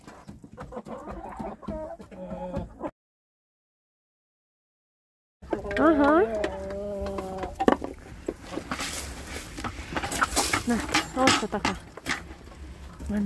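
Hens and young roosters pecking at whole oats, with soft clucks and scattered pecking clicks, broken by a silent gap before busier, nearer clucking and calls resume; a person's voice is also present.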